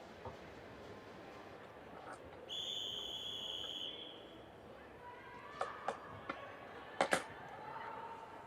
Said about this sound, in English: Whistle's blown and we get ready to go.